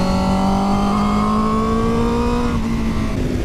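Aprilia RSV4 1100 superbike engine revving hard under acceleration, a loud, rising whine that climbs steadily before briefly dipping near the end, continuous and close.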